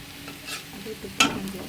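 Browned onions sizzle faintly in a pan as turmeric goes in, with a soft hiss and a single sharp scrape of a spoon stirring close by.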